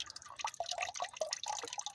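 Hot engine oil drips from a Chevy truck into a bucket, a quick irregular patter of small wet plinks, close and fairly quiet, with no talking.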